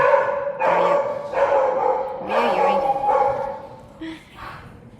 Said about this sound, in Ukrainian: собаки загавкали, дуже гучно було